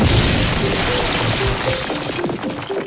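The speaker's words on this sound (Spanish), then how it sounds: "Se produjo una chispa de fin de mundo, seguida de una explosión." A loud explosion sound effect in a documentary about eighteenth-century scientific experiments, a dense booming crash that fills the whole span and slowly tails off.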